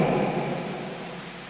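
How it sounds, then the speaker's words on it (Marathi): Steady rain falls on an open-air cricket ground during a local tournament match in Bhiwandi, a close, even hiss of drops with no talk or other sounds over it. "हरेश सर, कारण की जे पावसाचे थेंब सरी येतात ते डोळ्यातून डोक्यातून पाणी डोळ्यात जाऊ नये यासाठी त्याचा उपाय म्हणून हेल्मेटचा वापर कर"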